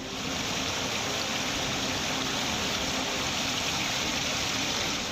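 Heavy, continuous monsoon rain in Gariaband district, Chhattisgarh, a steady dense hiss of falling water with a rushing, stream-like quality, unbroken and without voices.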